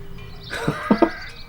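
A goat in the mountain video game Over the Alps lets out a few short bleats close by, three quick calls in about a second against a quiet game background.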